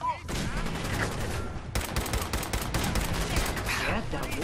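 Rapid gunfire bursts in Fallout 4, dense crackling volleys repeating almost continuously over a couple of seconds, loud and close in the game mix.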